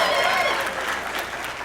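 A town hall audience claps and cheers with a brief, dense burst of applause and crowd noise, loud and sustained throughout.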